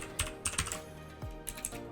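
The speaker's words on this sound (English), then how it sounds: "we're gonna go and type computer" Quick clacking keystrokes on a computer keyboard, a few irregular taps in a short burst, close and clear with a faint background hum and no talking.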